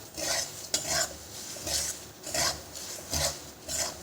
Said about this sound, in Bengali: গরম মশলার গুঁড়ি দিয়ে একটু নেড়ে নেব